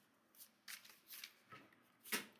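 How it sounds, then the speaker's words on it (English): Sacred Medicine Oracle cards shuffled by hand in a quiet room, five or six soft separate riffling bursts at irregular intervals, faint and close with no talking. "So we'll just keep shuffling."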